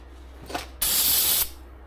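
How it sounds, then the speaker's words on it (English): An aerosol can sprays down wheel bearing bolt heads during a 2017 Chevy Equinox wheel bearing replacement: a short hiss, then one loud, steady, close spray lasting over half a second that stops abruptly. "I guess I'll just spray these bolt heads down."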